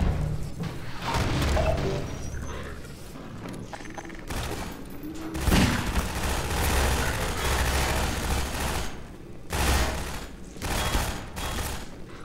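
Rapid bursts of gunfire from the Half-Life 2 video game, loud and dense, a steady volley with mechanical clanks and a few pauses, filling the whole stretch with no talk.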